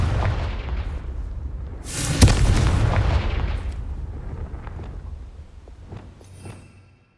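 A loud booming explosion from the Confringo fire spell in Hogwarts Legacy, over a rumbling background that fades slowly after the blast, with a smaller pop near the end.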